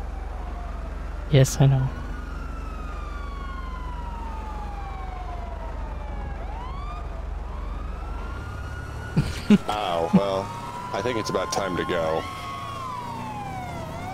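An emergency vehicle siren in Grand Theft Auto V Online wails in long rising and falling sweeps, joined by a faster yelping pattern near the end, with someone talking over it.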